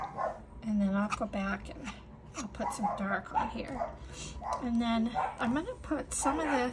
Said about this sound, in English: So pardon my dogs. They're going to bark.